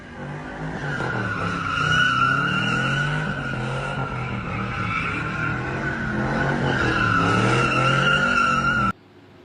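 A 2010 Camaro SS doing donuts, its tires squealing and skidding in a long continuous screech over a loud revving V8 engine, the pitch wavering as the car circles, close and intense, cutting off abruptly near the end.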